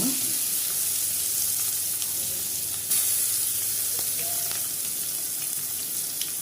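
Ground mint paste with roasted peanuts sautés in a pan, giving a steady close sizzle with a few light utensil knocks and scrapes scattered through it.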